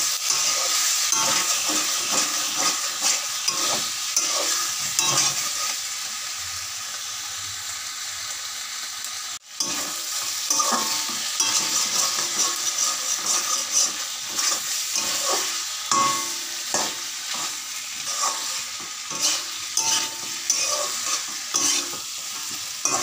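Meat being stir-fried in a pan, a loud continuous sizzle with rapid repeated stirring scrapes and clatters throughout, no talking.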